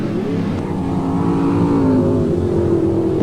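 A racing car engine on a circuit during a 1986 NSW sports car round, a sustained loud roar with the pitch climbing and shifting as it runs around the track, no voices over it.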